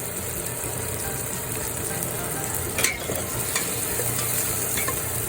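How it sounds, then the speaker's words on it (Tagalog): Chili peppers sauté in a pot for a miso sinigang, a steady close sizzle and stir with a short clatter midway, no talking. "Tapos yung sili, ako, igigisa po natin"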